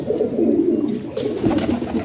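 A crested red Singhara pigeon with hassi markings coos at a pigeon sale, soft low burbling calls repeating steadily and close through the whole stretch with no talk.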